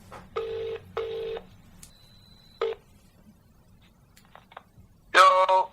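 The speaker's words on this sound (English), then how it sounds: "I think the phone is ringing." Telephone tones for an incoming call: two short bursts of ringing near the start, a brief tone, then a louder harsh burst at the end, with quiet gaps between.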